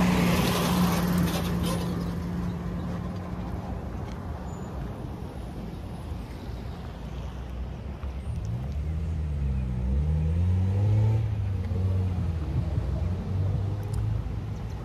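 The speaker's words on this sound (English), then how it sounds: "I'm gonna let this truck go by." A truck drives past on a roadside during an outdoor walk, a rising, continuous rumble with engine tones that swell from about eight seconds on, loud and near, over steady background noise.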